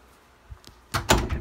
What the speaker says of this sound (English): Okay, the door's open.